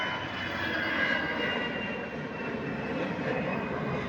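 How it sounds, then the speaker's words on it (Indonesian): A Citilink passenger jet roars steadily overhead, a broad continuous engine rumble that stays loud and even throughout with no voices. "Ah, pesawat lewat."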